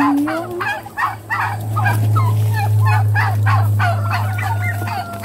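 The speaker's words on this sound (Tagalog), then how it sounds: "So, yan yung mga pabo namin." A flock of turkeys gobbling in repeated, overlapping bursts close by on a farm, over a low steady hum.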